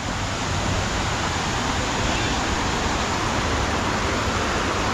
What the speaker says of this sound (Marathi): माझ्या पाठी बघा एकदम पाण्याचा आवाज किती मस्त वाटतं बघा